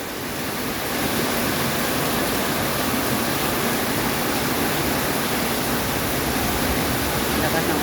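Heavy rain pours down outside a closed restaurant, a loud, dense, unbroken roar of downpour that holds steady throughout.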